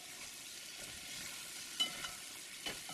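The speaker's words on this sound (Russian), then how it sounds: "чеснок нельзя жарить вот так больше полутора-двух минут." Steady, soft sizzling of garlic frying in a pan over high heat after carrots, a continuous hiss with a couple of faint stirring scrapes.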